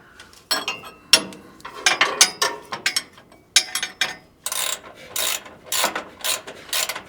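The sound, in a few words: ratchet tightening steering parts on 1946 Chevy truck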